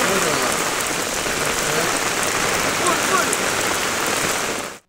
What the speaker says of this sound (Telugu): గత రెండు రోజులుగా ఏపీ వ్యాప్తంగా విస్తారంగా వానలు పడుతున్నాయి.